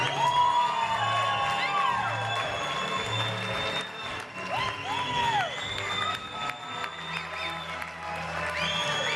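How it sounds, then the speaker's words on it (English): Wedding guests at a hotel reception applaud and cheer the bride and groom, with loud sustained clapping, whoops and shouts over thumping dance music, and a voice talking through the crowd noise. "put your hands together for our bride and groom"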